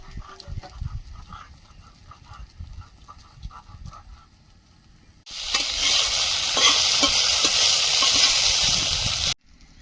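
Okra fries in oil in a pan. Quiet scraping and stirring come first, then a loud, continuous sizzle takes over for the second half.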